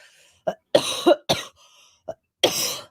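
A series of short, separate coughs, five or six bursts with pauses between, close and fairly loud, no speech.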